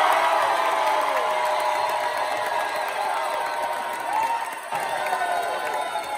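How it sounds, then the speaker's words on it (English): Crowd cheering and applause for a contestant at a blues concert dance contest for dancers aged 60 and over, a loud, dense mix of clapping, shouts and whoops over music, sustained throughout with a brief dip near the end. "All right, y'all give it up for number one."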